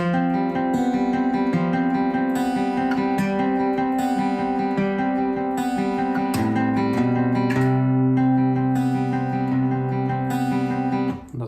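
A picked guitar pattern rolls over a steadily climbing bass line in the verse section of a song, full and continuous throughout, with no voices.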